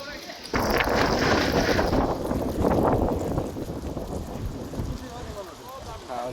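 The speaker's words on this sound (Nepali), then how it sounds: "हावा निकै चलेको छ।" Strong evening wind blows outdoors, buffeting the microphone with a loud, continuous rumbling roar that starts abruptly after a brief quieter moment and persists with gusty swells.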